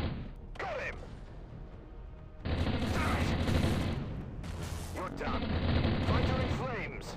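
Weapons fire and explosions rumble in the Space Commander space combat game, a dense continuous roar of blasts and booms with a louder surge midway, while a voice talks over it.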